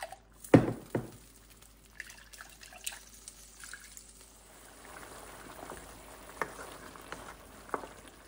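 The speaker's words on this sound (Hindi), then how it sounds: "लहसुन, अदरक, हरी मिर्चें जो पीसी इसमें थोड़ा सा पानी डाल लेते हैं।" Water trickles and splashes into a cooking pot holding ground garlic, ginger and green chilies, with a few sharp clanks at the start, then soft intermittent dripping sounds; close and fairly quiet.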